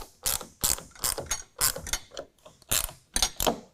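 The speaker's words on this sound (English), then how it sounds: "I'm going to go ahead and tighten these down using a 1/2 inch." A hand ratchet with a 1/2 inch socket tightens rack bolts on a 2019 Ram 1500, giving rapid close clicking bursts in about eight separate strokes with short pauses between them.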